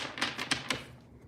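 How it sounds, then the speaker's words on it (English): Tarot cards shuffled by hand during a reading, giving four quick crisp riffling bursts close by, then a short quiet tail. "5 shuffles."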